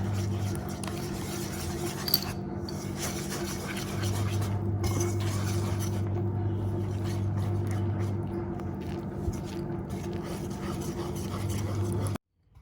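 Coconut milk and glutinous rice flour being stirred in a pot, a soft continuous scraping swish running for over ten seconds with a low steady hum underneath.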